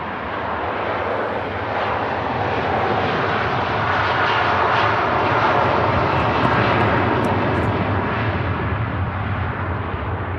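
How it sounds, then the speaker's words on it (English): An Airbus A330 departs Manchester Airport, its jet engines producing a loud, steady, deep rumble that fills the whole stretch without pause, heard from the Runway Visitor Park. "Seriously loud departure there from the 330, rumbling off, shaking the tower here at the Runway Visitor Park."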